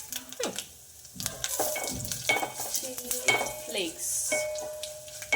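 Cumin seeds and chili flakes sizzle in a hot pan for a bitter gourd stir-fry, with a steady crackling fry broken by clinks and scrapes of a spoon stirring against the pan, close and fairly loud with no talk.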